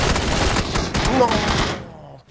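Automatic rifle burst in a PUBG squad match, a rapid crackle of shots that sustains for about two seconds and then cuts off abruptly, with a voice talking underneath.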